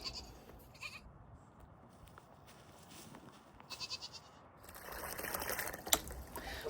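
Goats bleating in a snowy winter barnyard around hay feeders, with several short calls scattered through steady background noise that grows louder and busier near the end.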